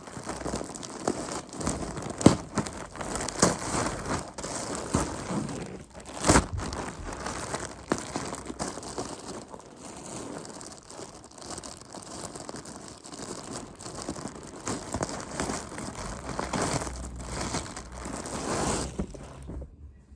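Plastic packaging of a newly delivered bedspread crinkling and tearing as it is opened indoors, continuous close rustling with sharp rips and crackles.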